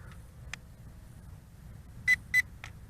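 Short electronic beeps from the Spider X2 drone's phone app as video recording stops: one faint chirp, then two clear beeps in quick succession and a final short one, all against near silence.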